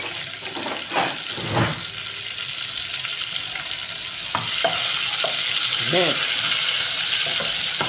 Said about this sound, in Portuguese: o alho dourou, é a vez da cebola, tá?